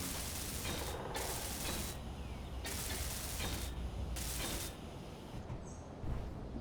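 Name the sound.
welding blocks in the video game Space Engineers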